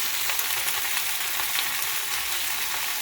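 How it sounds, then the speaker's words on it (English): Washed sweet potato greens stir-fry in a pan over medium-high heat, giving a steady, dense, close-up sizzle and crackle that holds at an even level throughout with no talking. "So we're adding the washed greens."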